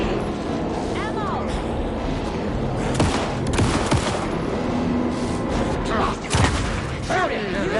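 Gunfire bursts in the Alan Wake II video game, a few sharp shots cutting through a dense, noisy fight scene with shouting voices and game effects underneath.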